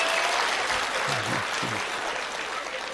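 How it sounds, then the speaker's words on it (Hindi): A large audience at a Hindi-language talk claps with raised hands, producing sustained, even applause for the full three seconds with a faint voice underneath. "हाँ ताली बजाओ, हाथ उठा कर"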